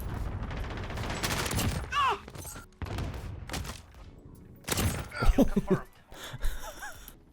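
M4 rifle fire in the Call of Duty Modern Warfare video game, with rapid bursts of shots separated by pauses, close and punchy, mixed with breathy vocal sounds and other game effects.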